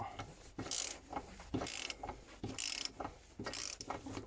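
A ratchet wrench loosens a bolt on the injector of a Renault Clio 2 phase 2 dCi diesel engine, giving four bursts of close, loud ratcheting clicks in a steady back-and-forth rhythm, with no talking.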